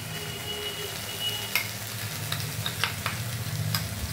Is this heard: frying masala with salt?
yes